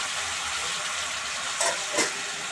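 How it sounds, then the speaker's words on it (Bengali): Water poured onto a frying spice paste for cabbage kofta curry sends up a steady close sizzling hiss, with two brief sharper spits near the end. "এবার মশলাটা কষানোর জন্য অল্প একটু জল দিয়ে দিলাম।"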